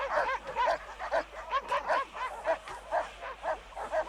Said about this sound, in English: Harsh sound effects like barking dogs pull the viewer deeper into the oppressive